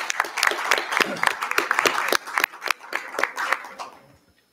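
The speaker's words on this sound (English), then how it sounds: "Let's give them another round of Thank applause." A crowd at a school district board meeting applauds student representatives, with sharp, brisk clapping that thins out and fades to silence near the end.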